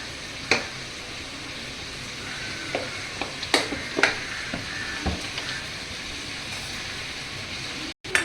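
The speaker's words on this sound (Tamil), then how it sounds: "அடுப்பத்தை வச்சு ஒரு தேவையான அளவு நல்லெண்ணெய் ஊற்றிக்கலாம்" Sesame oil heats in a pan on a stove, a steady low sizzle and hiss with scattered clicks and taps of utensils, then a brief cut near the end.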